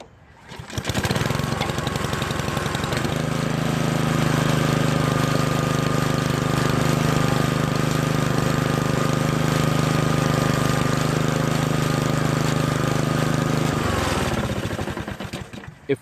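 A lawnmower engine fires after winter storage, following an air filter replacement, and catches almost at once. It then runs at a loud, steady drone for about thirteen seconds before cutting out.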